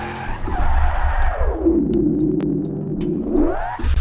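A car slides sideways on the handbrake in BeamNG.Drive, tires skidding loudly over engine drone as the pitch dips low and then climbs back up before the slide ends.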